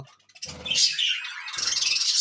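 Small pet birds chirp in quick, high twittering bursts close by, with a short pause between two lively spells.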